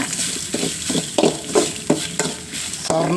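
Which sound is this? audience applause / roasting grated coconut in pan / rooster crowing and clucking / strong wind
roasting grated coconut in pan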